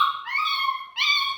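An overtired beagle puppy lets out two close, loud, high-pitched whining cries, each drawn out and wavering, with a brief pause between them.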